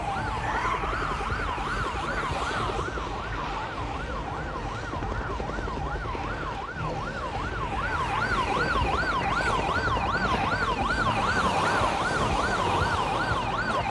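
A loud wailing emergency siren from the video game Project Zomboid, rising and falling in steady continuous cycles, with a second higher wail joining partway through; no talking.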